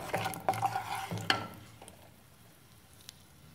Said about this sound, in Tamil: கொஞ்சம் உளுந்து போடுங்க.